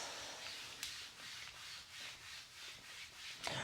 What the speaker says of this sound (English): Give the back of the knees and the hamstrings a rub